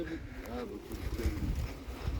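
Soft pigeon coos blend with outdoor background noise and a low rumble, with no clear speech.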